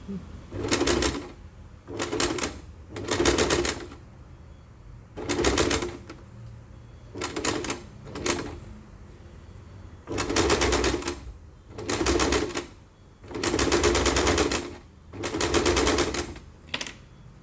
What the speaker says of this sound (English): Then I add in a bunch of pins and start sewing using the round scallop edges as a guide.